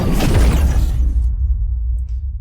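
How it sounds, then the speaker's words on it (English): A massive ripping impact built from layered boom sounds for an animation, a loud tearing crash that bursts at once and then decays into a rumbling tail over about two seconds. "So it's this massive ripping impact that we have in the middle here."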